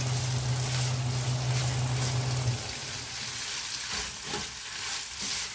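Pork intestines stir-frying with turmeric in a pan, a steady close sizzle with scraping stirs, an extractor hood's low hum running underneath for the first half before cutting out.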